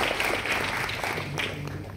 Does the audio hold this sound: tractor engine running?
no